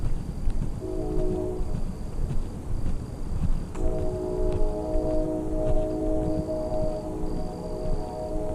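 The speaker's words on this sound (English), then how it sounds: "Your freight train." A freight train rolls by on a city walk, its steady rumble joined by a sustained horn blast near the start and again from the midpoint on, moderately loud and drawn out with no talking.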